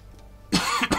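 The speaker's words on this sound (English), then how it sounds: "As you can tell, just a little bit of a cough still." A single harsh cough bursts out after a quiet half second, loud and close, with a short second burst at the end, during a painting session.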